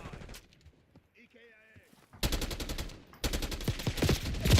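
AK rifle fire in Call of Duty Black Ops 6 comes in two loud rapid bursts of shots, separated by a brief lull, following a quieter stretch with faint game sounds and some speech.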